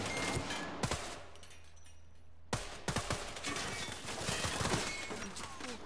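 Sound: gunshots in video game Sniper Ghost Warrior 3

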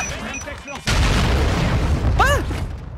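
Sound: sniper gunshots in a video game

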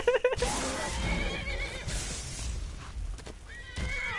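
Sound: horse neighing in Skyrim video game

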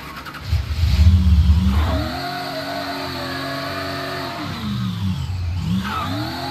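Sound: car driving in video game Mafia III

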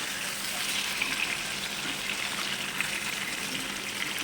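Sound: chicken chaap frying in oil

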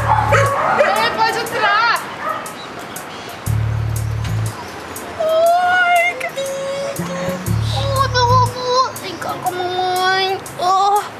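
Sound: small dog barking and whimpering

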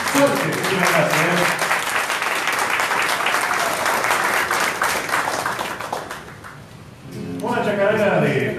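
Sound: audience applause at folk music concert

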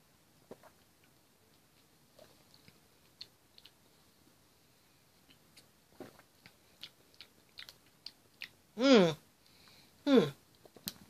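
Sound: chewing and biting a pumpkin spice snack

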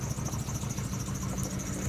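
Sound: car engine idling smoothly

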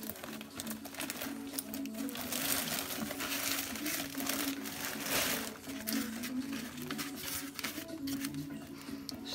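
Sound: opening a plastic parcel bag from Aliexpress

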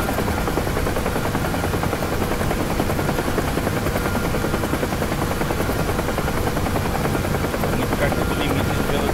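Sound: UH-1H helicopter flying in DCS video game

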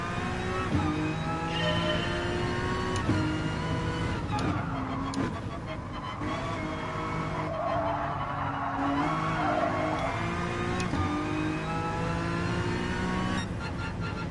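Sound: car rear sliding out under full throttle in Gran Turismo Sport video game

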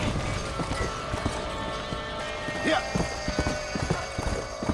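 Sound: horse galloping and neighing in the video game Red Dead Redemption

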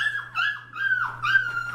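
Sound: Shepadoodle puppy whimpering

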